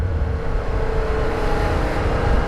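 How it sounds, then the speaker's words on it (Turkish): A motorcycle engine revving through its original, stock exhaust gives a steady low rumble, muffled and fairly even, close by with no voices. "Şimdi orijinal egzozda çünkü hiç ses çıkmıyor."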